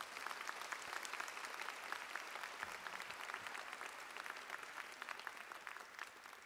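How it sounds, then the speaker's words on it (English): At a spring university commencement ceremony, a large audience applauds state legislators, producing a continuous, even wash of clapping heard from a distance, quiet but sustained throughout. "Please give them a round of applause."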